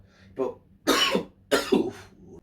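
A person coughs three times in quick succession, close and harsh, with short gaps between the bursts.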